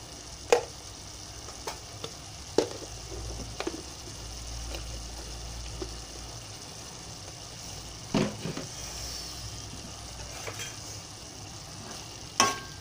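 Pachi prawn curry with garam masala simmers in a pan, giving a low steady bubbling sizzle broken by sparse sharp clicks and spoon taps, close and quiet, with no talking.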